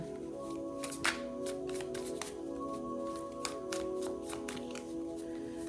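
Tarot cards being shuffled in a run of crisp riffles and snaps over a steady humming tonal background, with no talking.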